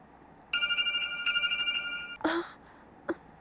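A telephone rings with a bright, electronic multi-tone ringtone that sounds steadily for about two seconds, then cuts off with a couple of short clicks and a brief rustle.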